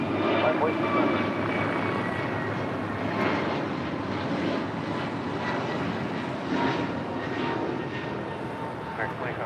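An American Airlines Airbus A321neo airliner takes off from a runway at LAX, its engines producing a loud, sustained roar that fades slightly over several seconds with no break.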